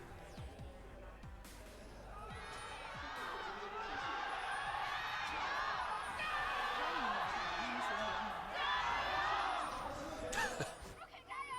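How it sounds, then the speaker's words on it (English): A big arena crowd at an LPL esports playoff match roars and cheers in a sustained, swelling wash of voices, with a commentator talking over it throughout. "It's absolute chaos in the crowd."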